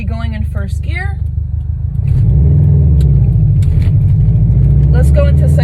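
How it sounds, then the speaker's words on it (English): A manual-transmission car pulls away from a stop sign in first gear. A voice speaks briefly at the start, then the engine's low rumble swells and holds loud and steady from inside the cabin. "Okay, so I'm leaving this stop sign. I'm going to be going in first gear."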